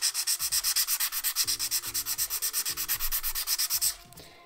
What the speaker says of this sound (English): I'm just using 240 grit file again, because I don't want to go ham on it.